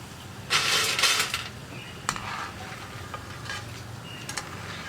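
Hot oil sizzles in a brief, loud crackling burst as toor dal murukku fries, followed by quieter frying and a few scattered utensil clicks.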